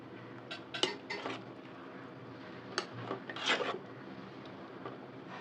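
A utensil scrapes and clinks against a pot in short bursts, with quiet stirring scrapes between, close and fairly soft.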